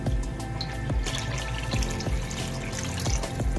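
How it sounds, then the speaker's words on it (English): Water poured into a soup pot for homemade chicken noodle soup, a steady running stream splashing close by for several seconds, about four glassfuls in all, with no talking. "So about 4 glasses of water to this."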